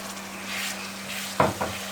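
Red chili and tomato puree tipped into a hot pan of onions for bhindi masala, under a continuous sizzle, with two sharp, close stirring scrapes toward the end.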